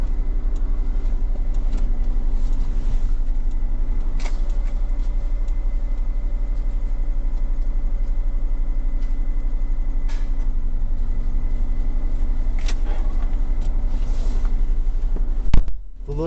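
A car engine idles steadily at close range, a constant low rumble throughout with a brief bump near the end.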